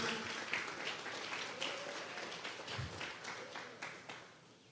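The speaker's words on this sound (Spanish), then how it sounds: "Vamos a regalarle ofrenda de palmas al Dios de la gloria." A church congregation claps during a Sunday service, a fairly soft and steady clapping that carries on for several seconds before it tapers off.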